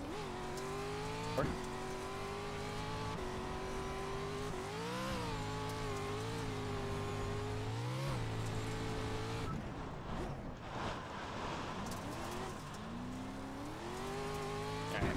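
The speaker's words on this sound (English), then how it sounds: "I'll do a full throttle into here just to see what we can get away with" Race car in iRacing on Crandon's dirt short course, engine at full throttle whining up and down through gear changes with tire scrub, loud and continuous, a brief lift near the end before revving again.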